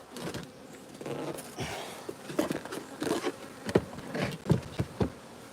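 Honey bees buzz around an open apiary hive, a close, irregular drone with individual insects swelling past the microphone amid scattered taps and knocks from hive work.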